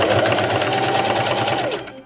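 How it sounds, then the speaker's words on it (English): A sewing machine runs steadily, stitching along a fabric corset seam with a rapid, even mechanical whir that holds for about two seconds, then slows and stops. "I sew up to the seam."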